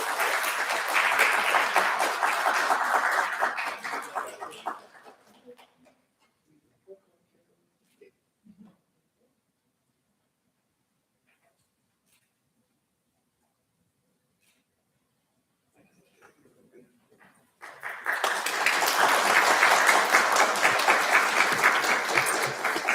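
Audience applause at a college of liberal arts and communication awards ceremony, a loud sustained burst of clapping for about five seconds that fades to near silence, then another loud round of applause swells up near the end.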